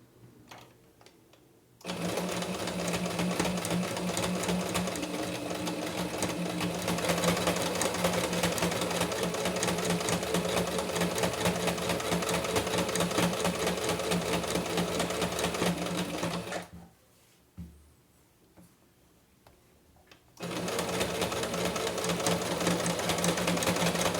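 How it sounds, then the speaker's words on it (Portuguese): A sewing machine stitches a dish towel, running in long, fast, steady bursts of close mechanical whirring and needle chatter, then stopping briefly for a quiet pause before starting up again. "olha, eu vou levantando o pé de máquina, vou virando. Abaixo a agulha."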